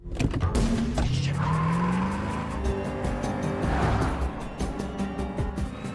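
A car floors it and speeds off in a getaway, tires squealing loudly over a roaring engine, with skidding and screeching that sweep up and fade as it pulls away.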